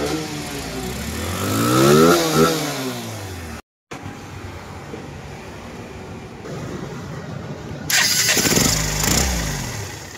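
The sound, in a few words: motorcycle engine starting and revving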